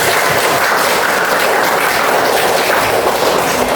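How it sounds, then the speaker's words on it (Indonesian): A classroom of students applauding during a lesson on artificial intelligence, a loud, dense and continuous burst of clapping close by, with no voices over it. "Betul, tepuk tangan buat saya."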